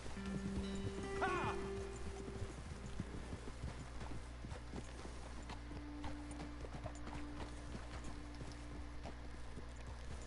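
Video game horse hooves clip-clop steadily at a walking pace, faint and even, with a brief whinny-like sound near the start.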